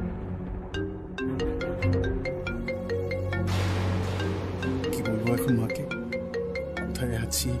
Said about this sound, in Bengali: কনস্ট্যান্ট রিং হয়ে যাচ্ছে।